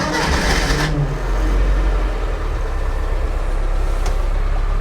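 A GME Rascal fires up from its key and start button, with a short burst of starter cranking leading straight into a loud, steady, low engine idle that continues close by.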